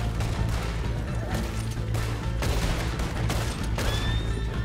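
Rapid gunfire in Red Dead Redemption 2 during a bank shootout, a dense volley of sharp shots and cracks in irregular bursts over a low rumbling background, loud and close.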